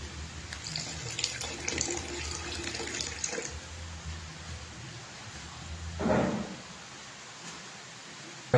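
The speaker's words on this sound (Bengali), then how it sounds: "একটু গরম জল দেবেন।" Hot water is poured into a pot of simmering chana dal, a rushing splash for a few seconds, then a quiet simmer with a brief second gush near the end.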